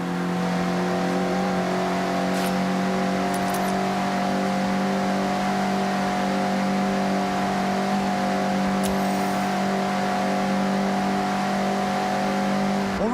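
Mazda MX-5 engine in Forza Horizon 6 holds a steady, loud, buzzing drone at constant revs for about thirteen seconds, with a few faint clicks over it and no speech.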